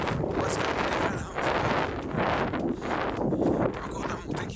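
Wind buffets the microphone in a continuous low roar during a hilly trail run, gusting stronger and weaker throughout, with no other clear sounds.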